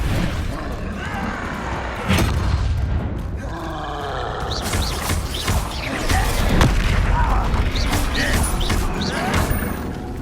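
Incendio fire spell in Hogwarts Legacy combat: a heavy boom lands about two seconds in, then swirling whooshes, crackling bursts and further impacts fill the rest, with a voice talking now and then underneath.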